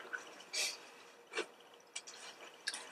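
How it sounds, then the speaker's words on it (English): Water poured into the water pot of a Brinsea Advance incubator, heard as a few soft, close splashes and drips spread out over a quiet background. "So, we'll fill up the water."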